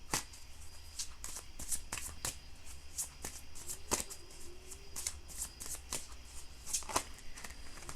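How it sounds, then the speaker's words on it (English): Tarot cards made by hand are shuffled and drawn, giving a steady run of crisp, close riffling flicks and soft slaps over a faint room hum, with no talk. "Let me just pull one of these cards here."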